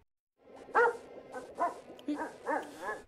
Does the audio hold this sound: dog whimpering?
yes